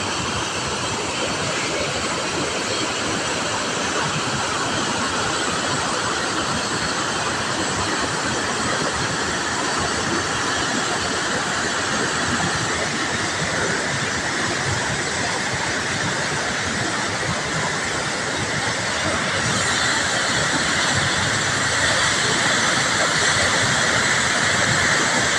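Rushing water at the Lumbayao dam roars steadily as a loud, continuous broadband hiss of rising floodwater, unbroken for the whole stretch and brightening slightly near the end.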